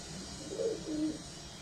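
A pigeon from a Faisalabad breeder's loft gives a soft, short coo at close range, faint and alone against a quiet background hum.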